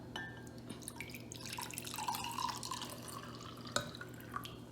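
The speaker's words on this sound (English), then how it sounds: "I'm going to pour it in the cup." Water trickles and splashes into a cup in a steady pour, with small drips and a brief clink partway through, fairly quiet and close.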